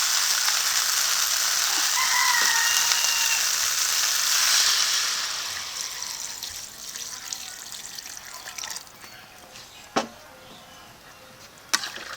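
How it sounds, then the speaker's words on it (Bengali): Cauliflower and potatoes fried in spices sizzle hard in a pan, then the frying hiss drops and softens as water goes in, with a few sharp clicks of utensils afterward; no talking. "ভালো করে কষিয়ে নিয়েছি এখন জল দিয়ে দেবো"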